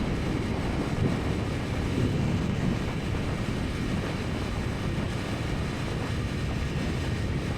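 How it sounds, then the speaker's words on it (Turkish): Continuous low rumbling wind buffeting the microphone while riding a 2025 BMW S1000RR motorcycle on the road, steady and loud throughout with no talking. "Evet şu an rüzgar esiyor."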